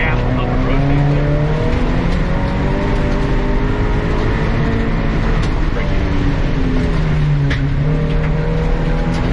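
A race car engine drones loud and close under throttle as the car rotates through a corner, its pitch rising and falling with light tire squeal, and a voice can be heard beneath it.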